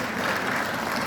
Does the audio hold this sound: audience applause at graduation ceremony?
yes